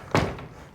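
An original 1915 wooden door in an old house swings shut with a single solid thud, close and fairly loud, followed by quiet room tone.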